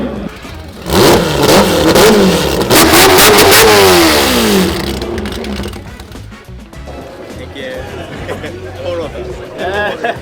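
A four-rotor rotary engine swapped into a Volvo revs hard in loud rising and falling bursts close by, then settles to a rough idle while people chatter around it.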